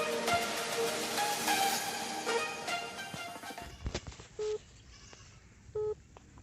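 A mobile phone on loudspeaker tries to place a call with no network, underground: a busy run of tones at first, then quieter, with two short separate beeps.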